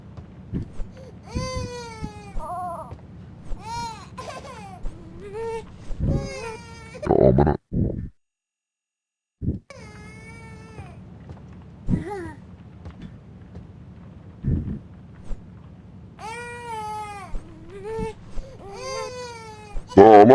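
Baby in yellow crying in the horror video game The Baby In Yellow, repeated wailing cries and whimpers close up, broken by brief thumps and a short silent gap, with someone talking in between.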